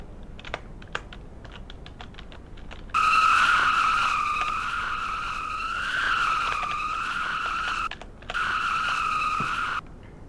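A race car brakes and its tires skid at Indianapolis, a loud sustained squeal that starts suddenly, wavers for several seconds, breaks off briefly, then continues. A few faint ticks come before it.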